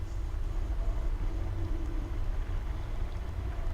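Spacecraft engine in Halo 4 starts up and settles into a steady low rumbling roar, a dense continuous drone that stays level and loud throughout.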